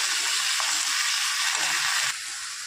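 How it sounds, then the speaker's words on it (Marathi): Boiled green chillies are stirred into a sizzling frying mixture, giving a steady, close hiss of frying that drops in level near the end, with no voices. "त्या सर्व मिरच्या अशा टाकून घ्यायच्या आहेत आणि ही मिक्स करून घ्यायचं आहे"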